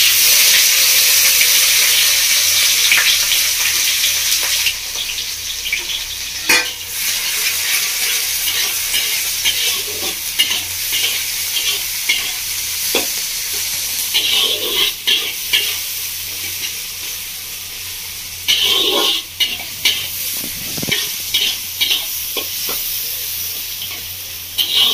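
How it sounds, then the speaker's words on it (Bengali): Chopped onion, capsicum and carrot sizzle in hot oil with cumin and chilli, a steady loud frying hiss broken by repeated stirring scrapes and clatters, with no talking. "এবার দিয়ে দিচ্ছি আমি পেঁয়াজ, ক্যাপসিকাম আর গাজরের কুচি"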